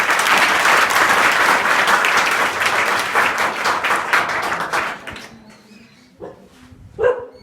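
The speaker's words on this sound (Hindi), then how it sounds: "उन सब के लिए जोरदार ताली मारेंगे।" A school audience at a junior high school in Azamgarh gives loud, dense applause for several seconds that fades out, followed by a couple of sharp dog barks nearby.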